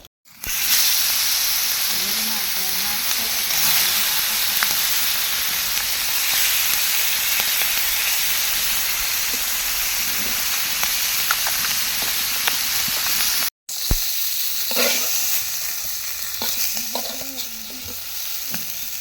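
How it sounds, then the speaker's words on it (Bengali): Fish frying in a pan of hot oil in a home kitchen, a loud steady sizzle and hiss that runs continuously, broken by one brief gap and a few faint clinks, with a faint voice in the background. "সবগুলো মাছ ভাজা হয়ে গেছে।"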